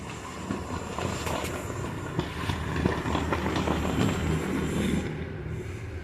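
A small 009 scale model train rolls steadily into a siding, a soft continuous rattle and whir with faint clicks, close but quiet, with no talking over it.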